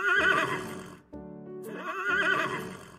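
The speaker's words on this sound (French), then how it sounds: "son maître prépara son cheval à l'écurie" A cartoon horse whinnies loudly and shakily in a stable setting, a brief pause in the middle, then a second long neigh with faint hoof clatter beneath.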